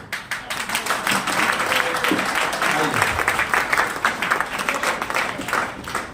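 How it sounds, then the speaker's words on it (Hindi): A crowd at a training event applauds the team coordinators, with dense, steady clapping that holds for several seconds in an indoor hall. "टीम कोऑर्डिनेटर्स के लिए एक बार तालियां हो जाएं"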